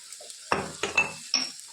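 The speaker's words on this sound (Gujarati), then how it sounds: "1-2 બદામ નાખી અને બધું આપણે સરસ અને સોટે થવા દઈએ" Melon seeds, cashews and almonds sautéing in a pressure cooker, with a steady close sizzle broken by three or four stirring scrapes against the metal pot.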